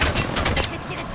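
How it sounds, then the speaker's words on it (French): Rapid gunfire from shooting in the Apex Legends video game, a short burst of sharp repeated shots that fills the moment with dense crackling, with a voice speaking over it. "Je vais tirer dessus."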